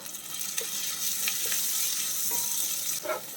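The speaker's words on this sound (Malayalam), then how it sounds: "അതിൻ്റെ കൂടെ തന്നെ നമുക്കൊരു തക്കാളി ചെറുതായി മുറിച്ചതും കൂടി ഇതിലേക്ക് ചേർത്ത് കൊടുക്കാം." Chopped tomato fries in a pan with a continuous loud sizzle and a few soft scrapes of stirring, and no one talks.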